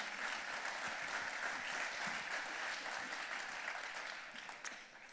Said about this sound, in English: let's give a big round of applause to thank all of them for their help tonight